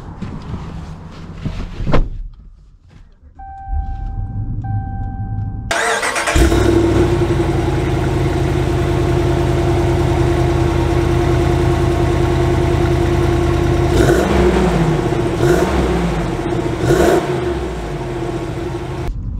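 The 6.4 Hemi V8 in a 2022 Ram 2500 single cab pickup starts up after some brief handling noise, then idles loudly and steadily, its engine note wavering with a couple of light revs.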